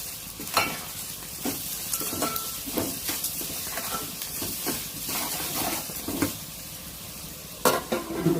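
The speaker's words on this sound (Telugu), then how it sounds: "పసుపు, సాల్ట్ ముందు కనుక వేసేస్తే ఆనియన్స్ తొందరగా ఫ్రై అయిపోతాయి." Onions frying in a pan with turmeric and salt, a continuous close sizzle broken by repeated scraping stirs of a spoon against the pan at a roughly regular pace throughout.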